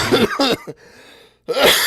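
Several short, harsh coughs in quick succession, a brief pause, then another hoarse cough burst, close and loud.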